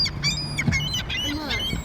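Seagulls squawk and cry in bursts while squabbling over scraps of pizza outdoors, their calls close and overlapping against a steady background hum.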